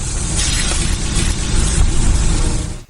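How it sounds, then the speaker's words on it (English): Dry-aged USDA Prime Wagyu and Angus steaks sizzle loudly and close in a dense, steady hiss of crackling fat that runs for a few seconds before cutting off abruptly. "That's the sound of sizzling, dry-aged USDA Prime Wagyu and Angus steaks from UpperCutChops.com."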